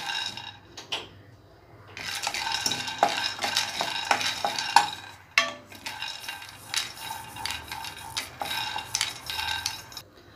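Gram dry-roasting in a heated pan, the grains stirred and scraped in bursts of rattling, with brief pauses and a soft sizzle between strokes.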